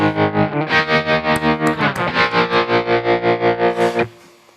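An electric guitar chord played through a Kemper Profiler amp stack with a tremolo effect, the volume pulsing in fast even waves for about four seconds before the chord is cut off, distorted and alone.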